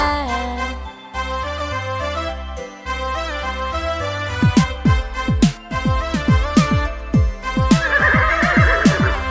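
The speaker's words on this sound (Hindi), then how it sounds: "घोड़ा दौड़ा दौड़ा घोड़ा दुम उठा के दौड़ा" A horse whinnies over a children's nursery rhyme backing track, with sharp tinkling, jingling hits and the occasional hoof-like clop, loud and busy.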